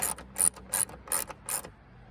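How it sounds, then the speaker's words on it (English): A hand ratchet clicks in five quick bursts, each a short rasping pawl run, while tightening the trunk support strut bolts on a late-1990s Jeep Cherokee. "I'm just gonna finger tighten these until I can use the ratchet"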